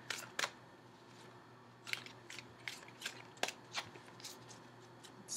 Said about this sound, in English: So I'm shuffling for an outcome card.